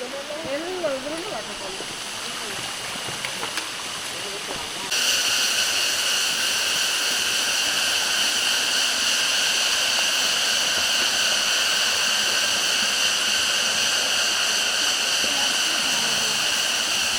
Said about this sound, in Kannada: ದಾರಿಲಿ ನಾವು ಸುಮಾರು ಕಡೆ ನೀರು ಹರಿಯುವುದನ್ನು ನೋಡ್ಬೋದು.